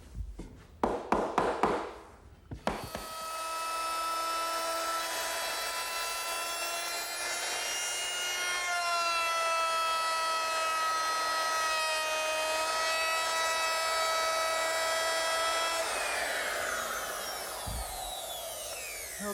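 A router fitted with a 1/2-inch radius bit rounding over the edges of a wooden Shaker washstand: a few taps, then a loud, steady high whine lasting about thirteen seconds before winding down.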